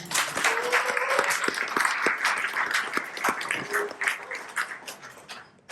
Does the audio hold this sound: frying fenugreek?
no